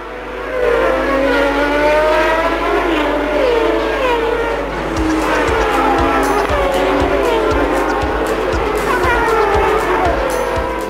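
Formula 1 cars race past at a Belgian Grand Prix with loud, layered engine whines rising and falling as they pass, with some bursts of tire noise, while a commentator speaks in French underneath.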